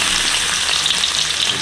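Sliced ginger hits hot oil in a home-cooked Malaysian fish and soy sauce dish, giving a continuous bright, crackling sizzle that stays steady and close for the whole moment, with no talking.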